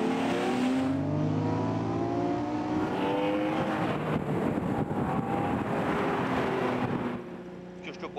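A 1972 Ferrari 365 GTB4 Daytona V12 revs hard on the road, its dense, rising engine note climbing steadily through the gears and staying loud and continuous throughout.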